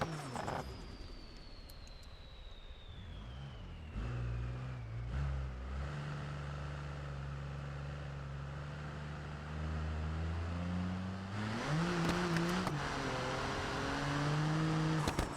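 Turbocharged six-cylinder 2.0 engine in a BeamNG driving game, running at 15 PSI boost, holds a steady revving drone that climbs in pitch near the end, alone and fairly quiet.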